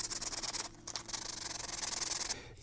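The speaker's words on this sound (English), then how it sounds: "So now we're just going to go ahead and sand it." Wooden molding duplicated to replace missing or damaged trim is sanded by hand: steady, close rhythmic rubbing strokes with a brief pause near the middle, continuous and fairly loud, no voices.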